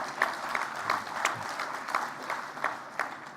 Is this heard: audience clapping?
yes